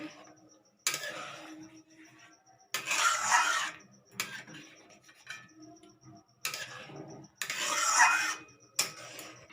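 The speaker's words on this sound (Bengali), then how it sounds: "এবার নেড়ে নেব ভালো করে, নিচে যেন লেগে না থাকে" Potato payesh is stirred in a pot with a spoon scraping the bottom, coming as four bursts of loud rasping scrapes separated by quieter pauses, close up and alone.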